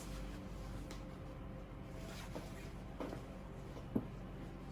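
Steady low whir of an electric fan running in a room, a constant faint drone filling the background throughout, with a brief soft knock near the end and no talking.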